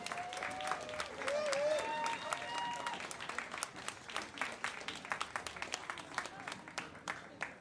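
Warm applause from an audience, sustained clapping with some cheering and voices mixed in, fading toward scattered claps.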